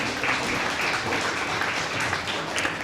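Audience applause at an evening honouring Dr. Chinmoy Banerjee, a steady wash of clapping from a gathered crowd that holds an even level through the whole stretch without pause.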